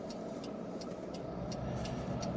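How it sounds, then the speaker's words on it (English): A car's turn signal ticks in a steady rhythm, about seven evenly spaced clicks, over the low hum of the car idling while it waits at a traffic light. "So you will hear car noises, and like right now my turn signal's on"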